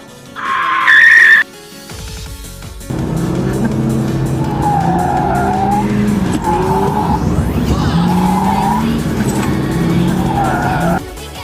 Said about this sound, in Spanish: Estamos derrapando el Supra aquí en Arenas